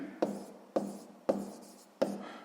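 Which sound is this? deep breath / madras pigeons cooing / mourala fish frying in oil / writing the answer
writing the answer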